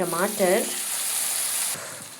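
Chopped tomatoes hitting a frying pan with Kashmiri red chilli for a Chhattisgarhi idhar sabji, giving a steady bright sizzle that cuts off abruptly near the end, with a brief voice at the start.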